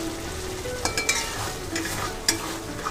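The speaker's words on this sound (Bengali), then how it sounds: "ক্রমাগত মশলাটা নাড়াচাড়া করতে করতে কিন্তু মশলার সাইড থেকে তেল ছেড়ে গেছে" Spice paste stirred and fried in oil, a steady sizzle with soft scraping strokes of a spoon and occasional sharp ticks, close and continuous without speech.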